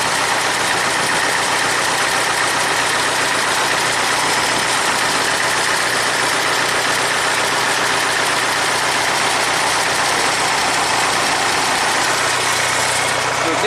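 A 1975 International 574 tractor engine runs steadily at raised speed, a loud continuous droning roar close by with no pauses and no voices.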